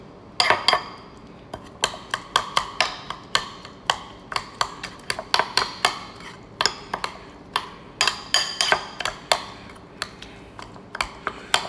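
Spoon or whisk clinking repeatedly against a bowl while herbs and seasonings are mixed for a glaze, a steady run of sharp close taps and scrapes with no talk.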